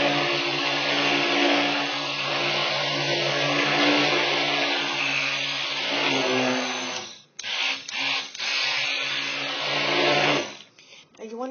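A hand-held immersion blender whirs steadily while mixing soap batter, a loud continuous motor drone with a faint rising and falling pitch. The motor cuts out briefly near the end with a few clunks, then starts again.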